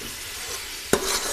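Spices are stirred into a hot frying pot with a soft continuous sizzle, then one sharp metal clink of the spoon against the rim near the end.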